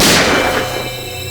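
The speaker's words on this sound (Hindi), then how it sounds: "गोली चलने की आवाज" A single loud gunshot with a sharp crack that decays into a lingering echo, with no voices.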